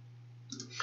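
A computer mouse clicks on a link, two quick soft clicks close together, faint against a steady low hum.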